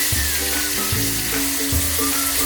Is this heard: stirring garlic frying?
yes